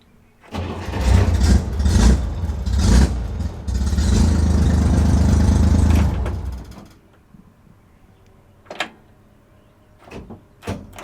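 An air-cooled car engine cranks under its starter for several seconds, loud and close, then the starter catches and cuts off, leaving a quiet pause broken by a few short mechanical clicks.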